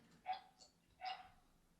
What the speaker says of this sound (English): Someone has a dog barking in the background.